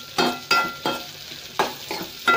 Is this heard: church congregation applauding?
no